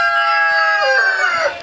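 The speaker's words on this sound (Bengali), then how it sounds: "এটা অস্ট্রেলপ মুরগি।" An Australorp rooster on a rooftop chicken farm crows once, close and loud, in a harmonic drawn-out call that trails downward at the end, with no voices.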